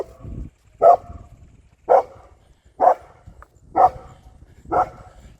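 Five steady, evenly spaced barks from a nearby dog, each short and sharp, repeating about once a second over faint background noise with no talking.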